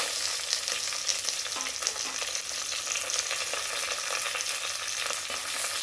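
Shallots, garlic and curry leaves frying in sesame oil for a masala fish curry, giving a dense, continuous crackling sizzle that stays even throughout with no voices.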